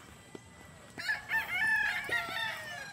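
A young rooster (stag) crows in a short, fairly close cock-a-doodle-doo over quiet farmyard background, preceded by a few faint clucks and taps.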